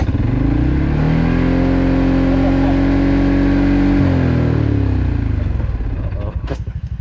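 A CF Moto quad engine revs hard and steadily at high rpm, dropping slightly in pitch around four seconds, then winds down and sputters toward the end, close and loud with no talking.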